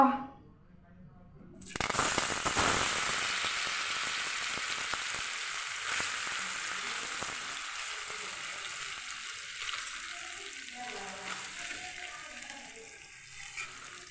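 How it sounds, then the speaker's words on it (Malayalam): Beef and soyabean pieces drop into hot coconut oil, setting off a loud, steady sizzle that starts abruptly after a quiet moment and keeps crackling with small pops throughout. "അപ്പോൾ നമുക്കിത് വറുത്താലോ?"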